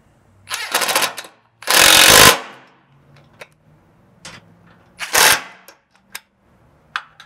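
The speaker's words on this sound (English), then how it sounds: "we can go ahead and tighten these down with a 3/16 Allen socket" Bursts of a 3/16 Allen socket tool tightening rear bumper bolts on a Lexus GX470, several loud close rattling whirs of one to two seconds with a few clicks and clinks between them.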